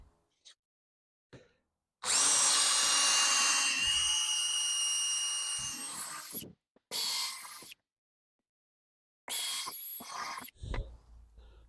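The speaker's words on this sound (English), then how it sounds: "I think I'm going to put some screws in to hold these pieces on" A power drill drives screws into wood pieces of a table saw panel cutting sled, in one long loud whir followed by two shorter bursts, with quiet gaps between.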